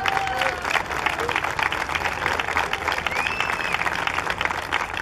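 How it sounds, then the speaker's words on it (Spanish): A crowd at an Angelman charity race event breaks into lively, sustained applause with scattered cheers and whistles, loud and close, with some voices mixed in. "Vamos todos a dar a estos superhéroes un gran aplauso por su gran trabajo."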